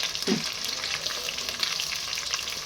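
Steady sizzling of tomato puree frying in a pan, a constant hiss with a brief low scrape of stirring near the start.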